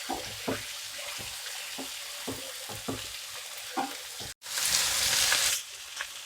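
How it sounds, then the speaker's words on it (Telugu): Chopped carrots and beans fry in a pan, with scattered scraping stirs over a soft sizzle and a brief louder hiss of frying near the end. "క్యారెట్, బీన్స్ వేసుకున్నాను. కొద్దిసేపు మిక్స్ చేసుకున్నాను."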